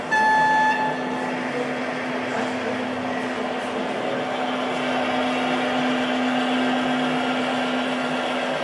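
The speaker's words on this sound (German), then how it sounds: "Die Hintergrundgeräusche, die man hier hört, sind von der Nebenanlage, auch eine Spur 1 Lok, eine alte E-Lok, die hier rührt." Old gauge 1 model electric locomotive running on a neighbouring layout, a steady motor whine and rolling hum with a sustained tonal drone, moderately loud and continuous in the background.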